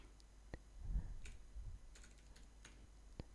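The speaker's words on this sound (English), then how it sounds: "I wish I was a quicker typer." Soft, sparse taps on a computer keyboard during bookkeeping work, a handful of faint clicks spread irregularly over a few seconds in a quiet room.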